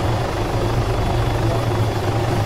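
A helicopter in the video game Altis Life hovers nearby with a loud, steady rotor thrum and engine drone, continuous and close with no talking.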